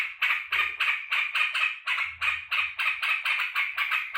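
A caged yellow-vented bulbul (trucukan) calls in a fast run of repeated bright chirps, about three per second, loud and close, with no voices.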